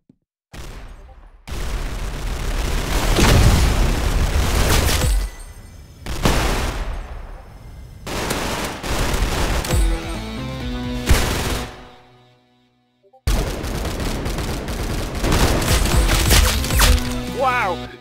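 Gunfire in the Roblox shooter Arsenal, loud bursts of rapid shots and cracks in several long volleys split by sudden silent gaps, close and dense with game effects layered in.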